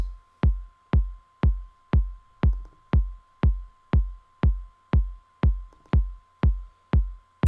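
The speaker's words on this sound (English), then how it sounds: "I'm gonna start from the kick, which is a very simple and deep kick" A deep electronic house music kick drum thumps alone at a steady, even tempo, each hit punchy with a booming low tail, about twelve hits in a row.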